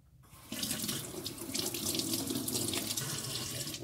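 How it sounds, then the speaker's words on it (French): A kitchen tap runs steadily while hands are wetted under it for handwashing, a continuous close rush of water splashing into a sink with no talking. "première étape, je me mouille les mains"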